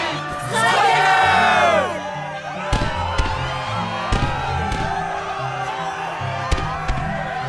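A crowd in the Kingdom Hearts 2 video game roars and cheers wildly in a loud opening burst over music, then fades as the music continues with a few sharp thuds.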